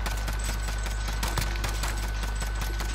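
Rapid bursts of gunfire in Call of Duty Modern Warfare: Warzone crackle continuously over a steady electronic hum, sounding like synthetic game audio rather than a real firing range.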